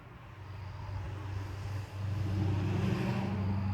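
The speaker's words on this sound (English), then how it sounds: "Oh, look, a car." A car passes by outdoors, a low engine rumble that swells and grows louder toward the end, heard alone without talk.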